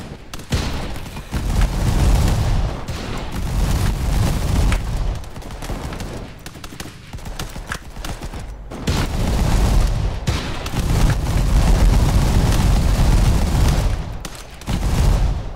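Tank guns fire and shells explode in the video game Tank Game, a dense, loud barrage of booming blasts and rumbling impacts rolling on almost without pause, heavy and continuous throughout.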